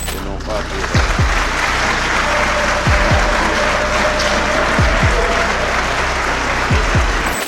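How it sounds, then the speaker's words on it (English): Conference audience clapping in a large hall, a dense steady wash of applause lasting throughout with a few low thumps mixed in. "people at that conference were very happy and they were clapping for him"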